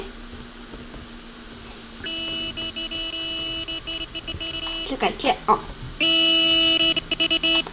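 A Fiat 126p maluch horn honks in a video game, sounding two long, steady nasal blasts plus shorter toots, with a person talking over and between them.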